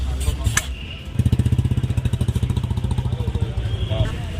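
A Bullet motorcycle on a busy food street, its engine thumping in a fast, even loud chug close by after a brief burst of noise, with people talking around it.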